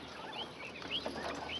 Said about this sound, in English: young roosters over there fussing